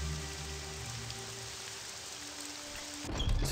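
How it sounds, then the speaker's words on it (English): Steady rain falls and patters on surfaces in Morrowind, a constant even hiss alone for several seconds before a louder rumbling burst at the end. "It's raining."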